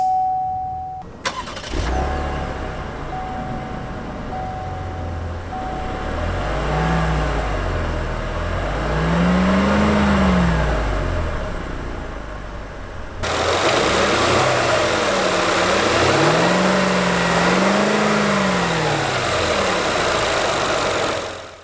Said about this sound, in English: let's start up this engine here